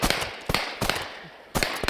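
Three loud close shotgun blasts at a snow goose hunt, fired in quick succession with sharp broadband cracks and brief outdoor decay between them.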